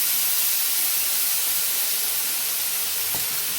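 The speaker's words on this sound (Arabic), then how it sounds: "معايا هنا عصير طماطم، ابدا انزل بيه" Tomato juice being poured into a hot pan while cooking kofta Dawood Basha, producing a soft, steady sizzling hiss throughout, with a brief splash near the end.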